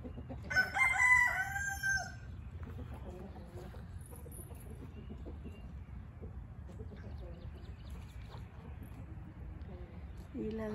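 A rooster crows loudly near the start, with scattered clucking and chicken sounds over a steady low rumble for the rest.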